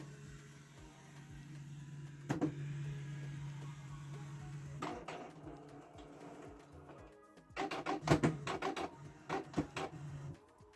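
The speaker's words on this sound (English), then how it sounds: "Switch the printer on, then wait." A Canon Pixma G3410 inkjet printer powers on with a steady motor hum, then a series of clunks, clicks and whirring mechanism movements, loudest toward the end.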